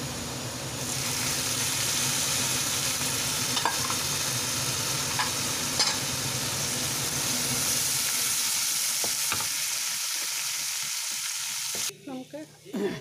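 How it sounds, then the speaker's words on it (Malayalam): Onions sauté in a pan for tomato rice, loud continuous sizzling with occasional scrapes of stirring, then the frying cuts off and a few close clatters follow. "ഉള്ളി വഴുത് വരുന്നുണ്ട്, നമുക്ക് ഇതിലേക്ക് ടൊമാറ്റോ അരിയാം."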